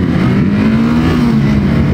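Kawasaki Versys 300 motorcycle engine running steadily while riding, a continuous loud drone with a held low tone and constant road and wind noise throughout, no voices.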